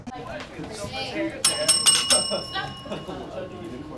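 A bell rings in a classroom during freshman fun and games, several bright metallic dings struck in quick succession, heard moderately loud amid chatter and voices in the room.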